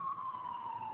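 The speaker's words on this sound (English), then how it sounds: "I'm going to let the siren go by." Emergency vehicle siren passing outside during a Shabbat service, a steady wailing tone that holds for the whole moment with no talk over it.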